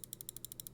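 Side buttons on an Xtrfy M42 gaming mouse clicked quickly about ten times in an even rhythm, each a sharp, close plastic tick.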